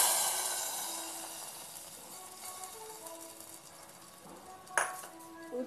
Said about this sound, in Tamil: இப்போ பொங்கலில் நெய்யில் வதக்கின மிளகு, இஞ்சி, ஜீரகத்தை ஊற்ற போகிறோம்.